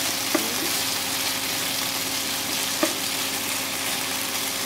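Chicken jhingada fries dhaba-style in a pan with a soft, continuous sizzle, broken by a couple of faint clinks from stirring.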